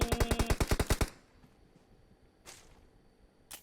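An automatic weapon fires in PUBG Mobile, a rapid burst of about a dozen sharp shots in the first second, then fading to quiet with a couple of faint distant cracks.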